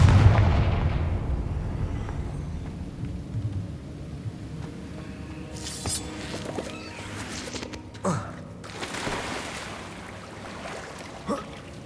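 Confringo fire spell explosions in Hogwarts Legacy. A deep booming blast opens the clip, followed by continuous rumbling game combat with scattered sharper impacts and bursts.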